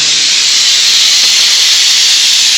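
Tempering spices in hot oil for a home-cooked Indian tadka give a loud, steady hiss of sizzling that stays constant and close throughout.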